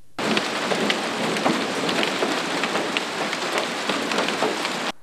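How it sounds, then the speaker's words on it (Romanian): Heavy rain with hail near Câmpina, Romania, pours in a dense, continuous roar with scattered sharper pattering hits, loud and close, with no voices. "Ploaia din weekend nu a venit singură, ci cu piatră."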